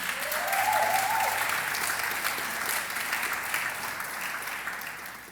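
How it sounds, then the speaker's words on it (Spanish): A church congregation breaks into steady, dense applause during a Spanish-language sermon, sustained for several seconds with a brief voice rising over the clapping early on. "Dele un aplauso al Señor."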